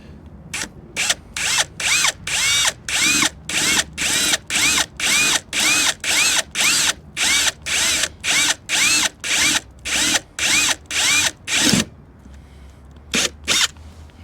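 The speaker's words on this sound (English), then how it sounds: "Those are all 4 holes drilled within about 4 minutes." A power drill bores holes into the rear bumper of a Hummer EV SUV, running in about twenty short, even bursts with brief pauses between them, then stopping before two final quick blips, loud and close with no talking.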